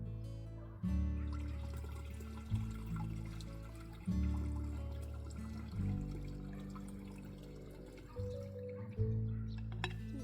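Water pours and trickles into a garden sprayer in several separate bursts, each starting with a splash and then running steadily at close range.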